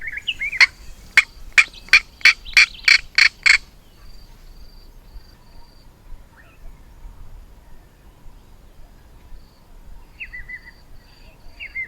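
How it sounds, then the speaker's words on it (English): A northern black heron calling to claim territory outdoors, a loud series of about eight rapid, evenly spaced harsh notes, followed by faint insect-like buzzing and scattered distant chirps. "Perhaps the loudest was the northern black heron, laying claim to its territory."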